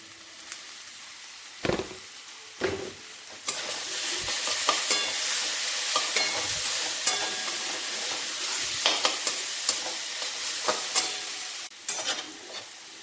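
Diced potatoes with salt and turmeric powder frying in a pan for a cauliflower samosa filling, a steady soft sizzle with occasional scraping and stirring knocks from a spatula, no voices.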